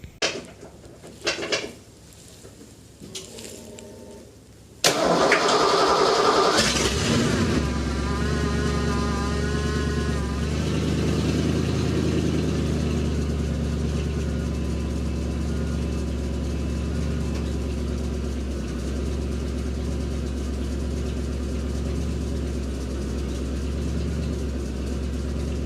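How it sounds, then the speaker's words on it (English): A car engine in 0 degree weather cold-starting after a brief crank, then settling into a steady, loud high idle with an even drone, no one talking. "a few weeks ago it was 0 degrees out here, so let's enjoy this cold start"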